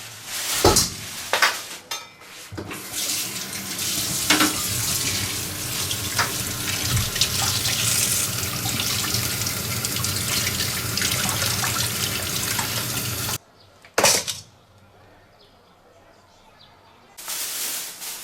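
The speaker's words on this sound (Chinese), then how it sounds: "我先把这个鲫鱼给它放到清水里洗干净。" Tap water runs steadily into a sink while crucian carp is rinsed clean, splashing and clattering close by for about thirteen seconds, then stops briefly before flowing again.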